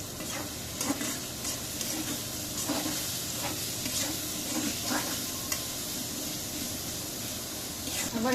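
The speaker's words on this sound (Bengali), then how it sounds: "আবার একটু লাড়া দিয়ে দিব।" Food fries in a pan under a bright, steady sizzle while a utensil stirs it with repeated soft scraping strokes, and a voice is faintly present in the background.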